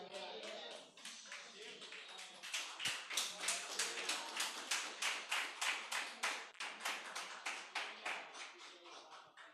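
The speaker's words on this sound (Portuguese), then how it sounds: "Você pode se assentar aplaudindo a Jesus" A church congregation applauds during a worship service, a steady rhythmic clapping in unison that swells to loud, evenly spaced claps, with faint voices mixed in.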